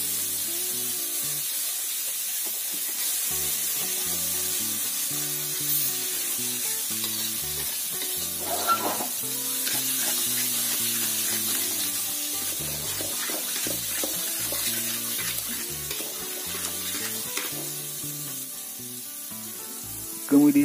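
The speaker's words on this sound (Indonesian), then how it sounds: "panaskan kembali minyak untuk menggoreng bawang merah, bawang putih yang sudah dihaluskan tadi ya teman-teman. Dan tumis sampai harum." Ground shallot and garlic paste sautéing in hot oil while cooking grasshoppers, giving a steady, close sizzle with intermittent scraping and stirring sounds throughout and no talking.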